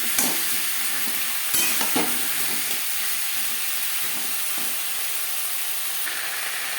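Potatoes fry with ginger and green chilli paste in a pan, a steady hissing sizzle close by with a few stirring knocks early on, then settling into an even, continuous fry.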